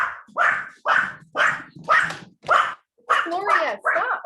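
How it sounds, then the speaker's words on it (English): A house dog barks loudly about eight or nine times in an even, rhythmic run of sharp barks, close by, with the final few turning more whiny and yelping. "my dog is barking"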